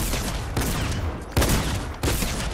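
Fortnite gunfire aimed at a llama: a few heavy bursts of shots in quick sequence, each a loud thumping volley with short gaps between, close and unaccompanied by talk.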